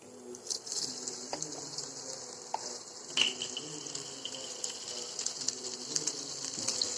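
Butter with asafoetida and cumin sizzles in a pan on an induction cooktop, a continuous faint hiss of frying with scattered light crackles and a few quiet clinks, no talking.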